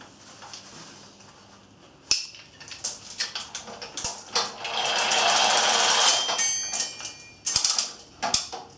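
A LiftinGear 1500 kg lever hoist being worked by pulling its lever gives off irregular mechanical clicks and ratcheting rattles, with a longer sustained metallic whir in the middle, close and fairly loud, with no talking.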